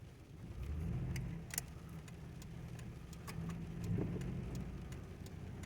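1995 Ford Taurus engine idling, a low steady rumble with mild swells in level, accompanied by soft regular ticking clicks throughout, moderately quiet and close, with no talking.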